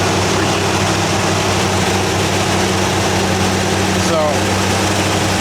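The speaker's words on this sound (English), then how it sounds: "the LeSabre's running pretty good" A 1968 Buick LeSabre engine idling with a steady low rumble close by, and a brief voice heard near the end.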